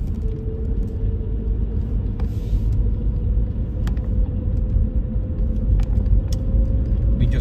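A car driving along Saddle River Road in Saddle Brook, New Jersey, with a steady low engine and road rumble heard from inside, continuous and fairly loud throughout.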